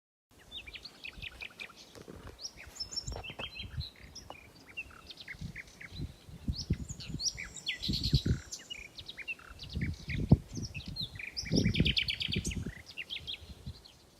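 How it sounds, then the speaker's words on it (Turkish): Several birds chirp and tweet in quick bursts over gusty, rumbling wind that buffets the microphone at intervals, on Heybeliada island in autumn. "Sadece rüzgar ve kuşlar."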